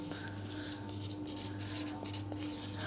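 Pen or chalk writing numbers during a class 5 maths lesson, soft scratchy strokes in short spurts over a steady room hum, with no talk.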